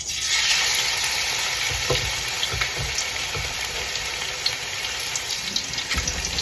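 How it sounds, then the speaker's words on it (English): Crushed ginger and garlic sizzle and fry steadily in hot oil for a crab curry, a loud, close and constant crackling hiss with faint stirring clicks and no talk. "So the oil is nice and hot. To this, we'll go ahead and add our crushed ginger and garlic."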